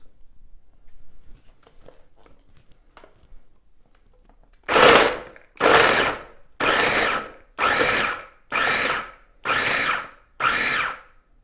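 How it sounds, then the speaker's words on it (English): A KitchenAid KFC3516ER 3.5-cup mini food chopper chopping raw carrots, running in seven loud, evenly spaced pulses of about a second each after a few seconds of faint rattling. "Let's just see how this machine tackles carrots."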